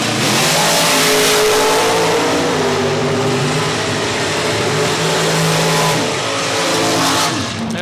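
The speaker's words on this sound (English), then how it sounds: "That baby is hustling down the racetrack." A supercharged dragster roars down a drag strip at a race event, a loud, harsh engine howl sustained throughout with a rising pitch as it accelerates away.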